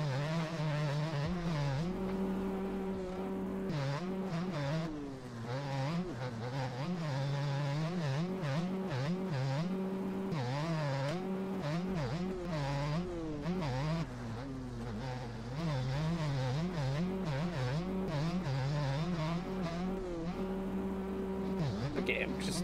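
A KTM motorcycle engine in a racing video game revs and wails continuously, its pitch rising and falling through gear changes and throttle swells, loud and close throughout, with a voice talking over it.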